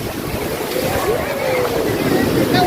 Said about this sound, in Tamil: மறுபடியும் கடல் ஓசையை கேளுங்க.